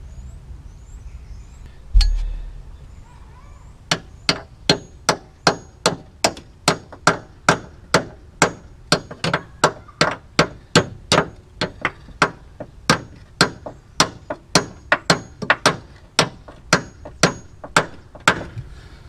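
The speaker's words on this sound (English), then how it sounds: "Long bolt method with a hammer." Steady hammer blows strike a long bolt to free a coilover on a Mk1 Miata MX-5 suspension, with a single heavy thump and then about thirty sharp, ringing metallic strikes in a regular rhythm, close and loud.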